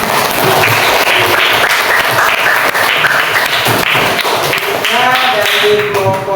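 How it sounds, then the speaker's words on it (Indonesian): A classroom of eighth-grade students claps after a group presentation, loud and close, with continuous tapping and thumping, while voices and some chatter rise over the clapping toward the end. "Oke, tepuk tangan."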